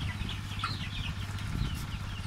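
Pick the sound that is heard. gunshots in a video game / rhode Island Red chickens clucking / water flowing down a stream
rhode Island Red chickens clucking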